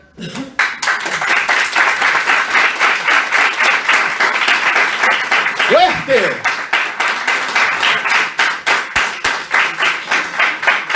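Congregation at a church service clapping hands in praise, a loud, rhythmic, sustained beat of many hands after a shouted word, with a voice briefly calling out mid-way.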